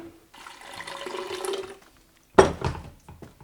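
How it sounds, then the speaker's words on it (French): Lukewarm water pouring onto peanut paste: a steady, moderate stream first, then after a short pause a louder splash and a few trailing sloshes, with no talking. "On va mettre un peu d'eau tiède."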